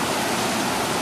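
Dunsulan Falls in Bataan pours with a dense, constant roar of rushing water that is loud and close and fills the whole moment.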